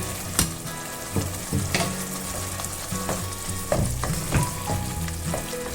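Green peas tipped into a sizzling paneer gravy in a pan, a loud close frying hiss broken by several stirring scrapes and knocks of a spoon against the pan, with no voices.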